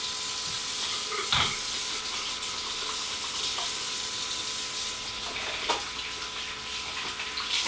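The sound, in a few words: washing hands under running tap water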